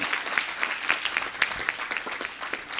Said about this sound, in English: Can we have a big round of applause for His Holiness Hari Vilas Maharaj ki?